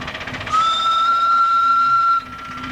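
A steam train carrying a few passengers sounds a loud, sustained whistle for over a second as it starts up a gradient, with a low rumble of the engine beneath.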